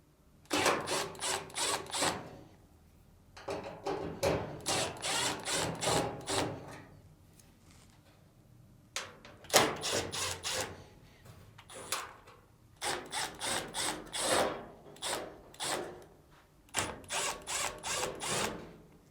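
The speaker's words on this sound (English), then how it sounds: "Next, remove the screws on the upper frame plate." Power screwdriver backing screws out of the upper frame plate on a Samsung dryer, close and fairly quiet: repeated whirring bursts of one to two seconds each, separated by short pauses, with no talking.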